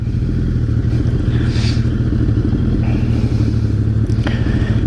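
A Suzuki Hayabusa motorcycle engine runs steadily and loudly up close as the rider sets off, a constant low drone with slight rises in revs and faint clatter, no talking.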